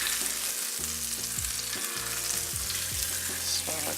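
Butter sizzling in a hot, smoking skillet for Irish potato and apple farl, a steady dense crackle with occasional soft clinks and scrapes, close and alone without voices.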